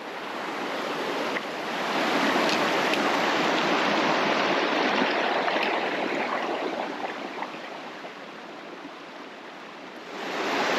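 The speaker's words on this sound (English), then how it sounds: "Now we're going to cross this little side brook and stay on this left side" A small side brook in the White Mountains of New Hampshire rushes and splashes close by, a steady broadband wash of flowing water swelling slightly midway with no voices.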